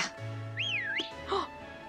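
A character in the Pokemon Shield video game whistles a short sliding two-note tune, a soft pitch-bending whistle heard twice over quiet game background hum.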